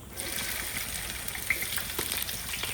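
Onions sizzling in hot oil with cumin for beef khichuri, a steady close crackle and hiss with small pops throughout.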